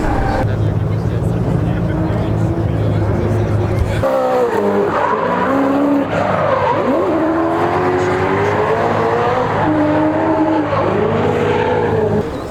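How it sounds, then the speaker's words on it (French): Chevrolet drifting at a drift show, tyres burning and squealing in long wavering wails over loud engine roar, steady and close, with a crowd's background noise throughout. "Bon, ici ça crame bien du pneu"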